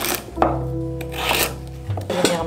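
Knife strokes rasp and thud against a board while roughly chopping butternut squash, a few rough cuts in an uneven rhythm, close by under low background hum.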